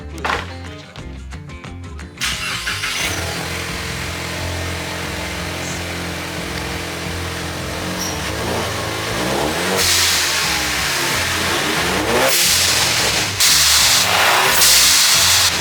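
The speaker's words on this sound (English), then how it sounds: "So we're gonna get this thing fired up, let you guys hear it" A car engine with a catback exhaust cranks and fires up, then revs repeatedly with a loud, raspy exhaust rising and falling close by.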